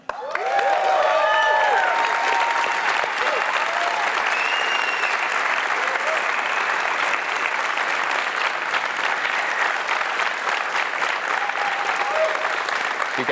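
Audience at a startup conference erupts in loud, sustained applause with scattered cheers and whoops, a dense continuous roar of clapping that holds steady for the full stretch.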